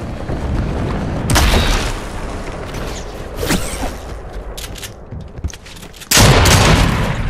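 Loud booming blasts and bursts of gunfire in a video game arrive in several heavy waves, with a rumbling bed between them and a final sustained barrage.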